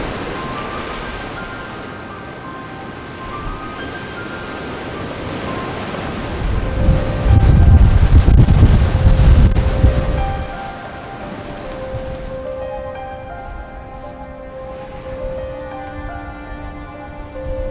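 Storm-force northwest wind and waves batter a coastline near a castle, lifeboat station and pier, a steady blustery rush that swells into a heavy, close buffeting roar midway before easing back, with no voices.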